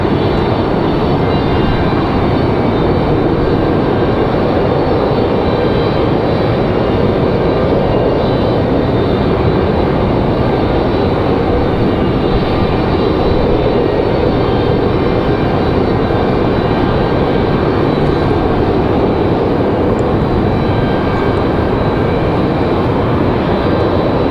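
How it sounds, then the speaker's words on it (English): A Delta airliner arriving from Los Angeles at Raleigh-Durham International Airport, its jet engines making a steady, loud broadband roar that holds throughout with no voices. "Delta 508 from Los Angeles is going to be our next arrival."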